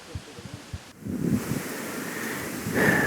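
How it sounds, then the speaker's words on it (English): Gusty afternoon wind buffets the microphone in a low, rumbling roar that swells louder toward the end, with a few faint thumps early on. "Windy afternoon"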